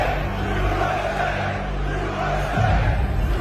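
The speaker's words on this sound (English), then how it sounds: "was welcomed by a roaring crowd of supporters" A roaring crowd of supporters at a UFC event at Madison Square Garden, a dense, steady wash of cheering and chanting from a large arena, swelling slightly louder toward the end.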